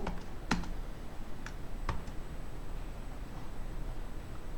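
A few light, sparse key clicks on a computer keyboard during spreadsheet formula entry sound close and quiet against a faint hiss, with no talking.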